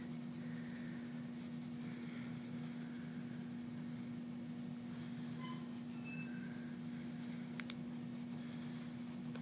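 Pencil drags and scratches across sketchbook paper while shadows are shaded in and darkened, a soft continuous rubbing and scraping over a steady background hum.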